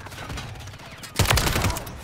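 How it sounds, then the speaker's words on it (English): Sniper fire in a Call of Duty match: a sharp burst of shots erupts about midway, with a couple of quick follow-up reports trailing off, loud and close over a low game-ambience background. "Been sniped at."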